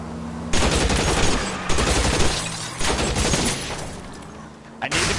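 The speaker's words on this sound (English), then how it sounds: "Man, they started shooting at me." Rapid bursts of enemy gunfire in the video game LA Noire, sustained loud volleys with short pauses between them, close and dense, with faint talk underneath.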